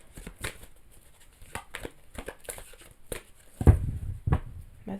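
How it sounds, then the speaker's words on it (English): A deck of tarot cards is shuffled by hand during a reading, giving close, sporadic riffling and crisp snaps of cards, with a few louder thumps near the end and no talking. "They said I could keep shuffling with the same deck."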